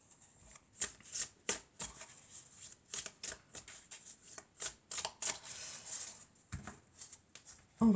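Oracle cards being shuffled by hand in a series of quick, crisp riffling bursts, close and fairly loud, with short pauses between handfuls and no talking.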